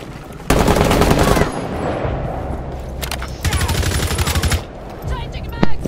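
Rainbow Six Siege gunfire comes through as loud, rapid automatic bursts, each lasting about a second, separated by short pauses, with a final sharp shot near the end.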